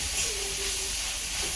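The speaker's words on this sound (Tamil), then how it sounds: "ஆனியன் வந்து நல்லா வதங்கணுமா? ஓரளவு மீடியமா வதங்கினா போதும்." Onions sizzle in a hot pan while being sautéed for a children's lunch box recipe, a steady, bright hiss that fills the clip with a faint voice-like tone briefly underneath.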